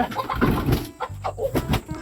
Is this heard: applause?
no